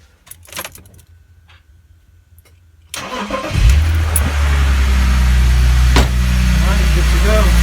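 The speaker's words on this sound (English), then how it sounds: "Alright, let's get this car started." A BMW E46 330Ci Clubsport starts after a key jingle and a click, its engine catching with a loud crank and settling into a steady, close idle.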